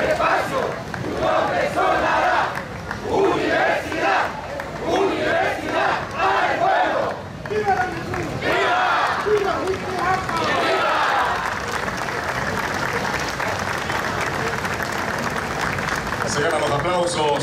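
A university crowd at an outdoor event chants in rhythmic bursts, then shifts into sustained cheering and applause, loud and continuous with voices mixed in.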